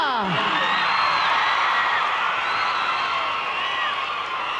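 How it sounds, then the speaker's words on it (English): A big TV studio audience at a 1988 pop awards show claps and cheers for Salt-N-Pepa in a continuous roar with whoops, and a short descending swoop sound at the start. "Round of applause for Salt and Pepa"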